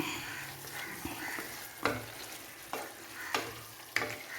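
Chicken perattu gravy sizzles softly in a pan with sunflower oil while a spoon stirs it, scraping in several distinct strokes over a faint, steady frying hiss.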